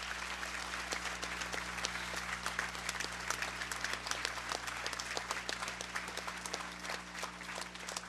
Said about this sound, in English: So I think we owe the hotel a big round of applause